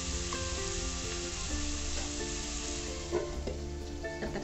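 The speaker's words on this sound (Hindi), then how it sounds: "तब तक हमारा फिश भी यहाँ फ्राई हो रहा है" Fish fries in a pan with a constant close sizzle and crackle, joined by a faint clink or two of a utensil, with no voices.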